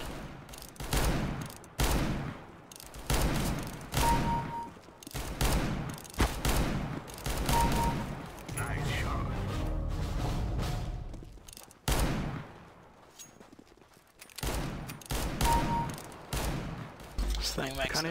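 Gunfire in a CS:GO revolver deathmatch, repeated sharp shots and short bursts in an irregular rhythm, loud and up close, with a player talking over the game sounds.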